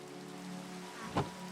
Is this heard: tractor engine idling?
no